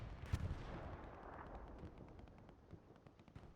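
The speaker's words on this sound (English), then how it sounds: "he's just going to keep shelling that now with the SBA rounds" Artillery fires SBA rounds in the Hell Let Loose war game on Utah Beach: a single heavy boom at the start, then a rumbling tail with faint distant thuds, moderately quiet.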